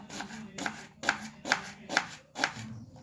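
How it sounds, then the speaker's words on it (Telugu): A knife slices onions thinly on a cutting board, six crisp, evenly spaced cuts in a steady rhythm, close and clear with no talking. "ఉల్లిపాయలు అయితే ఇలా స్లైసెస్గా కట్ చేసుకోవాలండి"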